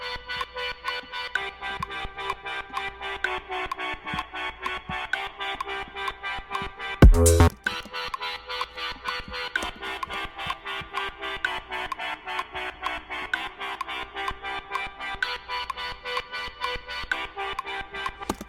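Ableton Wavetable synth patch with oscillator one's wavetable position modulated, a steady pulsing tone with shifting timbre that runs throughout, broken by one brief loud burst midway, with no talk.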